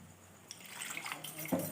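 Water is poured into a pan of spiced moong-dal fritter masala curry cooking with onion paste in oil, a brief quiet splash and trickle heard close by.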